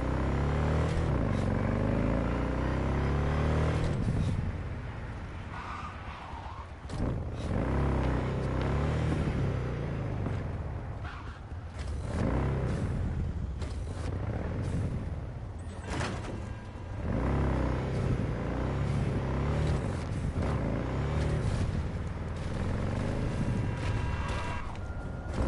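A car driven at high speed in the Cyberpunk 2077 video game, a loud continuous engine roar and rumble with surging accelerations and some sharp game effects throughout.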